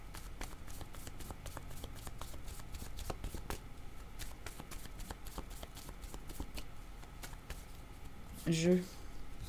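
Tarot cards being shuffled during a reading, a rapid run of crisp riffling clicks, close and steady, ending in a brief soft rustle.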